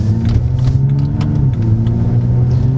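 A car engine is revved lightly under a little throttle, giving a steady, close mid-pitched drone with a slight rise and dip in pitch and no talking.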